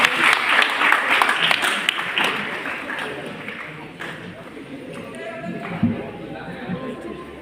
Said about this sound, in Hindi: बेटा तालियां बजाते रहो।